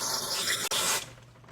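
Aerosol cleaner sprayed into a Briggs and Stratton small-engine carburetor: a loud, close, steady hiss lasting about a second with a brief break, then fading away.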